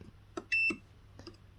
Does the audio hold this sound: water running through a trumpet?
no